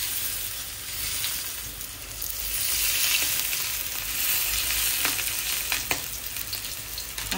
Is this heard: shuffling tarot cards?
no